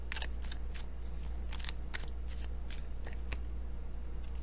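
Tarot cards are shuffled by hand in repeated short riffling bursts over a steady low hum, close and fairly quiet, with no talk.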